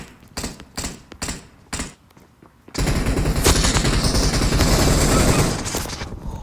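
Gunfire in the battle royale game PUBG: several sharp bursts of shots, then a sustained, dense stretch of rapid automatic fire, loud and close, tapering near the end.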